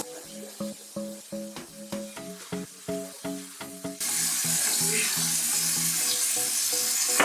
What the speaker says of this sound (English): just let them saute on each side for about 2 to 3 minutes so they get that nice crispy color